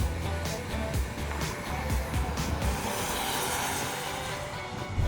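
A 2023 Ford Escape driving with its engine running, a steady broadband road and engine rumble heard from inside the car, continuous and moderately loud.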